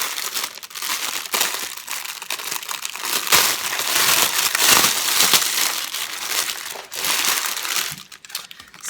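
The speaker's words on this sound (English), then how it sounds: "I'm gonna do some crinkling here" Plastic packaging from a diamond painting kit crinkles and crushes loudly and continuously close by, with dense rustling that swells and dips but never stops.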